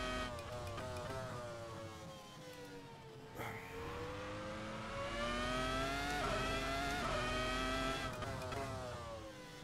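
A high-pitched race car engine in Assetto Corsa revs and climbs steadily, with a brief drop as it shifts gears, loud and continuous throughout.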